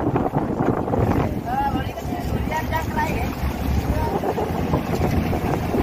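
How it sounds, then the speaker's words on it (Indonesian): Fishing boat KM Mutiara 20, a large bagan lift-net vessel, runs its main engine up as it pulls away from Kalibaru harbour in Jakarta. A steady, loud rumble is blended with wind buffeting the microphone, and voices talk over it. "Mesin kapal digas-gas dulu"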